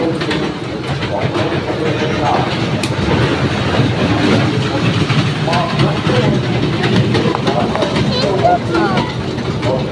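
A train rolling along its rails at a fair, a continuous loud rumble and rattle filling the scene, with a crowd talking and chattering over it.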